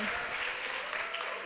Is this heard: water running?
no